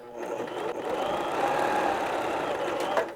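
A Baby Lock Zest sewing machine stitches a buttonhole bar tack in reverse, a steady close whirring hum that runs without pause for a few seconds and then ends in a brief clunk.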